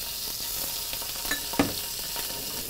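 Onion, garlic and ginger paste fries in hot oil with a steady, soft sizzle and a few faint clicks of stirring, with no voices.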